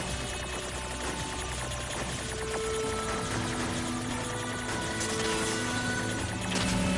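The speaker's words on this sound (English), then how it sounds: "he's doing the forbidden helicopter move" A whirring, helicopter-like drone from a spinning move in the video game NieR:Automata runs steadily and loudly throughout, layered over dense game music and effects.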